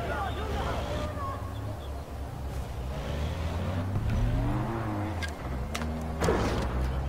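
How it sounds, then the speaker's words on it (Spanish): A car engine in the video game Far Cry 4 hums and revs steadily, rising and falling in pitch as it drives, with a voice talking over it. "Escucha por ahí un coche."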